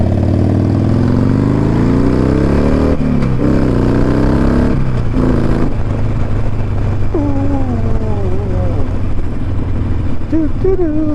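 A Harley-Davidson Iron 1200 motorcycle is being ridden. Its engine drones loudly and continuously and rises and falls as it shifts through gears, while the rider talks and hums over it.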